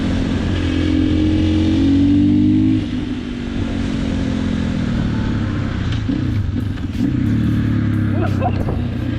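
Husqvarna 501 motorcycle being ridden, its engine droning loud and close with rising and falling revs, a brief throttle-off dip partway through, and wind noise over it.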